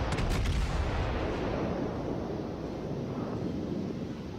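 Heavy naval gunfire from the Japanese battleship Amagi in World of Warships: a loud booming blast at the start rolls into a long, rumbling wash of low noise that slowly fades.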